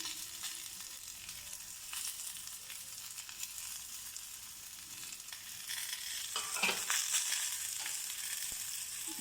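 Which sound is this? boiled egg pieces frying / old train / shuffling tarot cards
boiled egg pieces frying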